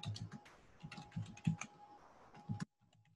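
Rapid keystrokes on a computer keyboard while editing text in a 3D modeling program, a quick irregular run of close clicks that stops abruptly near the end.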